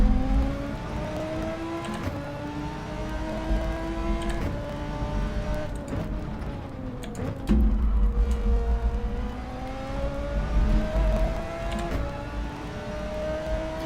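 A race car in Gran Turismo 7 is driven flat out with no traction control, its engine revving up and dropping through repeated gear shifts, loud and continuous with no talk.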